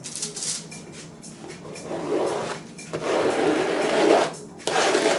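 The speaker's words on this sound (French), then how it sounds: "c'est juste j'étale la peinture sur la toile" A scraper drags paint across a canvas in long rasping strokes, a gritty scraping hiss that swells and fades with each pass, close up with short pauses between strokes.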